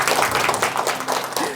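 Audience giving warm applause to welcome a guest professor at a talk: brisk, dense clapping from a room full of people, fairly close and steady across the short stretch.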